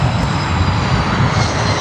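A jet airliner rolls along a taxiway at Chicago O'Hare airport, its steady engine roar and whine close and continuous with no pauses.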